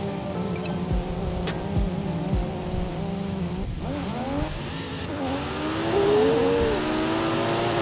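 Engines of a Supra and a Camaro drag racing at a strip, a steady high-revving drone with rising and falling pitch sweeps as the cars accelerate and shift, loud throughout and swelling near the end.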